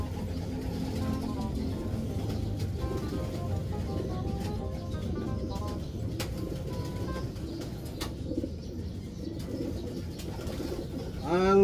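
Pet pigeons coo in a Philippine loft, soft low repeated calls running steadily under a busy background with a few wing flutters and faint chirps, no talking.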